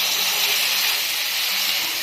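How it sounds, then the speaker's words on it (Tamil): Tomatoes dropped into a hot pan of softened onions while cooking hotel-style kurma, giving a loud, close, continuous sizzling hiss with no talk. "ஸோ நம்ம தக்காளியை ஆட் பண்ணிடலாம்."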